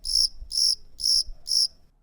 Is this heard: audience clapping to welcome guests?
no